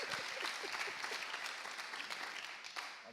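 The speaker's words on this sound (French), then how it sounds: "on peut l'applaudir encore, ça va?" Audience applause at the final of a 2016 creators' challenge, a steady dense patter of many hands clapping for about three seconds, fading slightly at the end.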